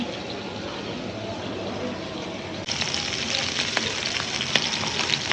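Tengra fish frying lightly in a pan on a home verandah, a steady dense sizzle that jumps louder and brighter partway through as the fish is turned, with faint crackles throughout.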